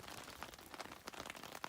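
Rainwater trickling off the edge of a tent canopy into a water bottle in an Oregon mountain meadow, faint irregular drips and patters over a soft steady rain hiss, no talking.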